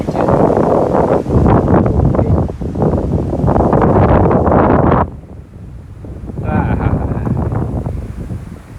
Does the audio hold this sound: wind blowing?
yes